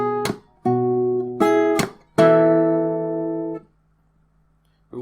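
Acoustic guitar playing bar 56 of a fingerstyle arrangement of a song from Naruto Shippuden: a few plucked chords and percussive slaps, then a ringing chord that decays into near silence, close and alone.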